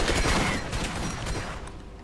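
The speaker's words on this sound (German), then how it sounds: "Du schießt echt Raketen, ja?" Rockets are launched in rapid succession in Borderlands, a dense volley of loud close blasts and whooshes that fades over about two seconds.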